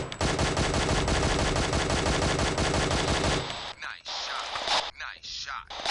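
Gunfire in the video game Jurassic Park Revolution: a loud, rapid burst of repeated shots for several seconds, then a few quieter isolated shots with gaps.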